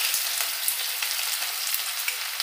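Chopped onion frying in oil with bay leaf, a cinnamon piece, green cardamom and cloves, a bright, dense, close hiss of sizzling with light stirring crackles throughout, no voices.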